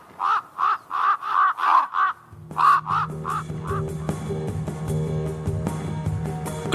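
A bird settled just outside a bedroom repeats harsh, crow-like caws in a steady series of about ten loud, close calls, and a low droning hum joins partway through.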